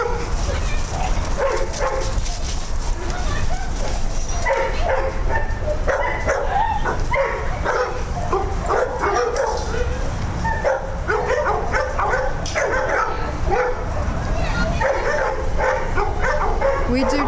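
Several dogs bark, yip and whimper during a one-at-a-time temperament test, a busy run of overlapping barks near and loud over about seventeen seconds, with people talking in between.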